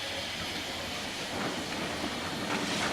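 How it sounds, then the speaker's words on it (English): Snowdon Mountain Railway rack-and-pinion steam locomotive hauling passengers uphill, giving a steady broad hiss and rumble with faint clattering that swells slightly, close and continuous. "These steam engines take passengers up Snowdon."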